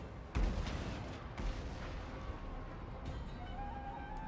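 Catapult firing in the strategy game Warhammer 2, with a couple of dull booming impacts over a continuous rumbling battlefield din, fairly distant and muffled.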